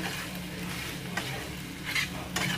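Pasta being stirred in a pan with Schezwan sauce, chili sauce, Maggi masala and soy sauce, a close scraping and soft sizzle with a few sharper utensil scrapes near the end.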